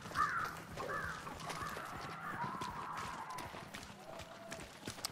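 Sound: ravens cawing in the video game Hunt: Showdown

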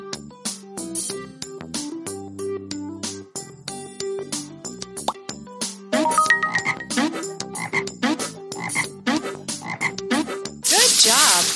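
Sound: frog croaking in a children's educational video game

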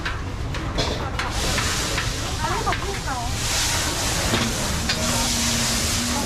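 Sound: pad thai being stir-fried in a wok at a street stall

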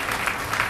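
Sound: live concert audience applauding

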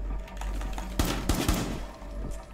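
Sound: gunfire in video game Rainbow Six Siege

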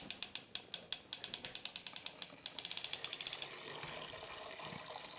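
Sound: pulley hoisting grain basket out of brew system

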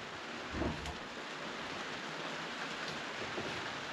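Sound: rain at a campground

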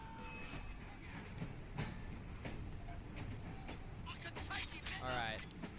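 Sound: train riding along, from the video game Assassin's Creed Syndicate

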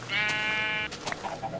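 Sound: sheep bleating in a Minecraft-style video game

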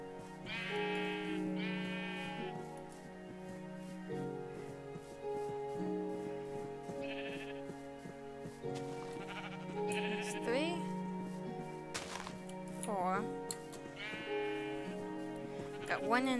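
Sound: sheep bleating in the video game Minecraft

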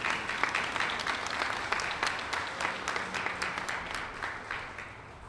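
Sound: graduation audience clapping

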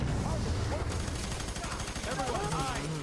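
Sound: gunfire in the video game F.E.A.R. 3

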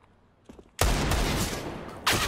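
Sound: AWP sniper rifle shots in the video game Counter-Strike: Global Offensive

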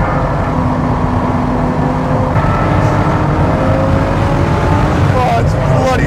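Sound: Ferrari LaFerrari accelerating out of corners

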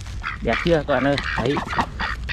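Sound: white ducks quacking

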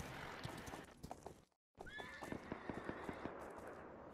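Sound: horse neighing and hooves, video game

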